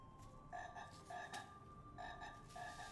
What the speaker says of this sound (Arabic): هاي ضفدعة بدها تضل.